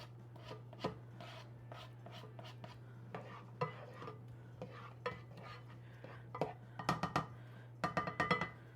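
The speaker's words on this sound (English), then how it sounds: "Stir them in." A spoon stirs chopped onions through melted butter in a pan as the base for chicken pot pie, making soft irregular scrapes and clinks that are quiet against a steady low electrical hum.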